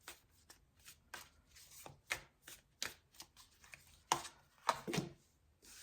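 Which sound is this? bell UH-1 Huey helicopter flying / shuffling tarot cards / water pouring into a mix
shuffling tarot cards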